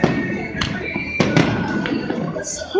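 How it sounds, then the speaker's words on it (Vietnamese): Fireworks burst over an Independence Day celebration in Charlotte, North Carolina, with sharp booms and crackles at irregular intervals over a steady outdoor rumble, while people talk nearby. "That's a long fireworks."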